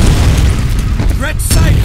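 A grenade goes off in a video game: a loud, deep boom rolls on as a heavy low rumble for about two seconds, with a brief shouted voice rising over it near the end.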